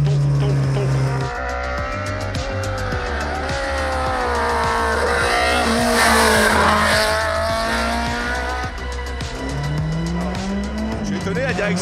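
A BMW M3 E30 rear-wheel-drive rally car driven hard, its engine revving loud and close and rising and falling through the gears, with tires squealing and skidding. A voice talks over it.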